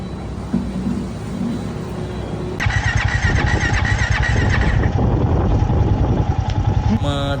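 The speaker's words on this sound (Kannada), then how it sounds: "ಎಷ್ಟೇ ಪ್ರಯತ್ನ ಪಟ್ಟರು ಗಾಡಿ ಸ್ಟಾರ್ಟ್ ಆಗ್ತಾ ಇಲ್ಲ" A motorcycle starter cranks repeatedly with a rapid chugging rhythm, close and loud, but the engine, which cut out suddenly on the road in 39-degree heat, never catches and runs.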